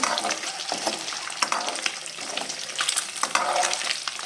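Potato and egg curry sizzles and crackles steadily in hot oil, with scattered stirring scrapes and pops over a dense frying hiss, close and fairly loud, no talking.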